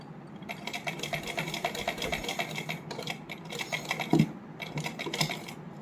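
A sewing machine runs in steady bursts, stitching the inner lining onto a heavily hand-embroidered suit, its rapid needle chatter pausing and restarting at a moderate, close level with no voices.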